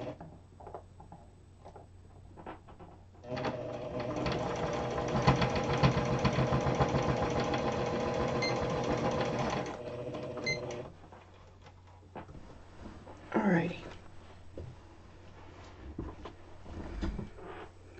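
A sewing machine stitches across scrap fabric tags in one continuous run of rapid, loud mechanical clatter lasting several seconds, bracketed by quieter handling noises and faint rustling before and after.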